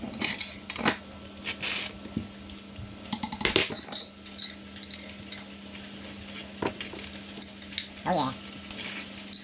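Mackerel fillets are flipped in a sizzling frying pan while cooking on a fishing boat. Metal scrapes and clatters against the pan over a steady sizzle, and someone speaks briefly in between.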